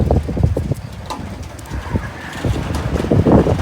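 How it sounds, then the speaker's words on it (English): Strong wind buffets the microphone with a constant low rumble, gusting louder toward the end, with faint bird sounds mixed in. "The wind is blowing like crazy."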